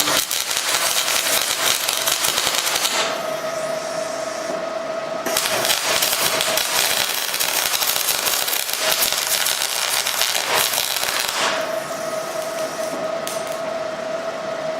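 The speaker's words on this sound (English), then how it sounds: "I'm going to put an extra weld on the end." An extra weld laid on the end of a steel welding table, a loud, steady crackling arc buzz that runs in long stretches with brief breaks between passes, no voices.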